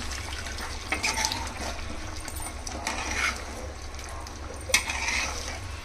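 Chicken kurma being stirred in a pan: a low bubbling hiss with scraping spoon strokes and a few sharp metallic clinks, one louder knock near the end, no voices.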